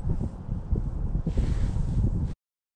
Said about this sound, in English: The wind's blowing, which from left to right